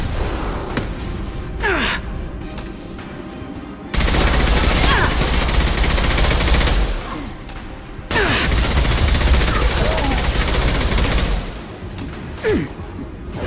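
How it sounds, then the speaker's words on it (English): A high-impact gunshot from Mass Effect Legendary Edition leads into heavy sustained gunfire and bursts of blasts in a loud firefight, with brief whooshes and breathy gasps between volleys. "Firing a high-impact shot!"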